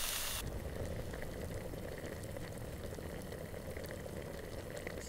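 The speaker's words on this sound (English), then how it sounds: "Let's get some water in there and simmer it." A pot of fish stew with water simmering over an open fire on a coastal island, a steady bubbling and hissing boil that continues without a break.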